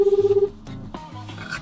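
A rapid series of telephone dialing tones beeps about eight times in half a second as a call is placed, then gives way to quieter background sound.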